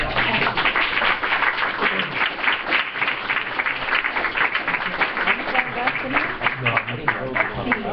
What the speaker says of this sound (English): would you please join me in another round of applause for our excellent